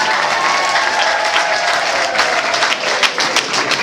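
Wedding guests at a church ceremony break into sustained applause, dense clapping that stays loud and close throughout with faint crowd murmur beneath.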